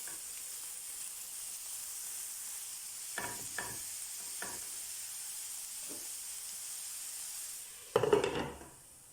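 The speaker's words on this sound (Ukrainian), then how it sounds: "Перемішуємо, накриваємо кришечкою і тушимо до м'якості." A spoon stirs meatballs in sauce in a covered frying pan over a steady simmering hiss, with a few scraping clinks and a louder clatter near the end.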